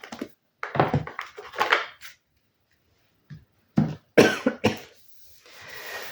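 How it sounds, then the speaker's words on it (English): Several bursts of coughing, some in quick clusters, close and fairly loud, separated by short silences, with a faint breathy rasp at the end. "it looks like my cough's about to start"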